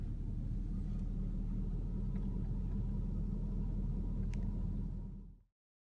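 A car driving along a downtown street, a steady low engine rumble and road noise heard from inside the vehicle, continuous and fairly close, with no talking, before it cuts off abruptly.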